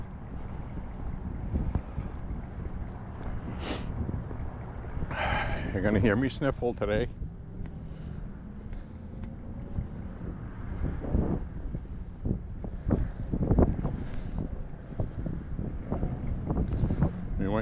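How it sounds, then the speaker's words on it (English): Blustery wind buffets the microphone outdoors on a morning walk, a steady rumbling rush through the whole stretch, with a person talking and sniffling over it. "Very blustery."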